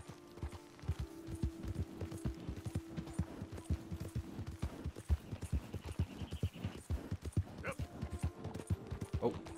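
Hooves clip-clop in a steady trotting rhythm as a horse is ridden in Red Dead Redemption 2, close and even-paced over a low game hum, with a brief faint tonal sound near the end.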